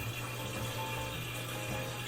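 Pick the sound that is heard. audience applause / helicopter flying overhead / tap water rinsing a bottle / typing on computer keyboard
tap water rinsing a bottle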